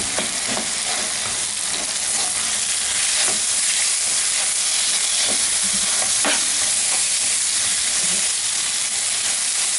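Minced meat and softened onions fry in a pan for a zucchini tray bake, giving a constant close sizzle with a hiss of steam. Occasional scraping clicks come from stirring.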